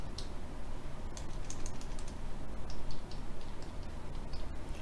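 A password being entered on a computer keyboard: a quick run of light, close key clicks in an uneven rhythm, heard alone over a low room hiss.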